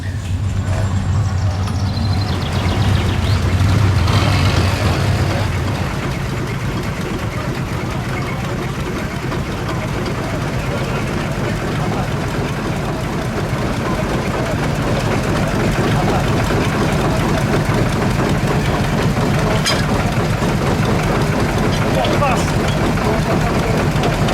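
Fordson Dexta three-cylinder tractor idling close by with a loud, steady low rumble and chugging throughout, a few sharper metallic knocks rising above it.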